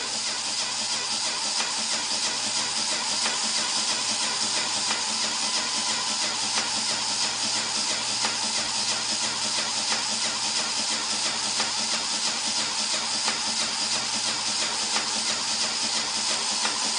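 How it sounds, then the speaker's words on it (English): A fischertechnik pneumatic compressor runs with a steady, even mechanical hum and buzz, holding a constant level the whole time with no pauses or voices. "So now the compressor is running."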